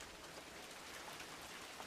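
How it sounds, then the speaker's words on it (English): Rain falls steadily outside, softened by cabin walls into a faint, even rustle of hiss and patter with no voices. "Closing the door enables the walls to muffle the sound of the rain into a soothing rustle"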